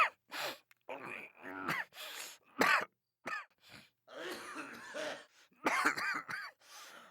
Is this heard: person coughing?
yes